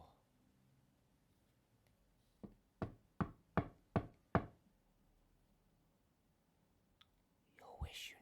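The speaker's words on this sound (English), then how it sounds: "there came a knock at the door" Six crisp, evenly spaced knocks on a door, close and sharp, following a faint whisper and then a soft rustle, in an otherwise quiet room.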